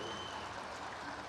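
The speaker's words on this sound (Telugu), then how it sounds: "గట్టిగా చప్పట్లు కొట్టండి" Applause from a farmers' crowd at a public event in Kodangal, Telangana, where the Chief Minister hands out scheme cheques. It comes as a steady, dense, even wash of clapping with no pauses.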